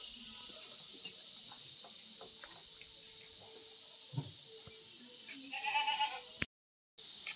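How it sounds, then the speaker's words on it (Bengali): Bleating from animals kept on a homestay farm beside cultivated fields, with repeated calls over a steady bed of insect and outdoor ambience, ending in a brief sharp burst before a short cut to silence. "এখানে ছাগলও লালন পালন করে"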